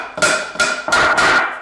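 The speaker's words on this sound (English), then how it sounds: "I'm just straightening this flimsy nail with the claw hammer." Claw hammer striking a flimsy pallet nail to straighten it: four sharp metallic blows with a ringing tone, evenly spaced and close, with no one talking.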